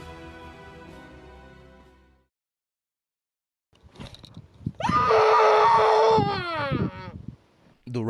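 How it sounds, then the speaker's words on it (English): A creature lets out a loud, shrill victory screech lasting a couple of seconds, its pitch rising then sliding down. A sustained droning tone and a short silence come before it. "The Ratnik Unit has just let out its patented victory screech, which can be heard for miles around"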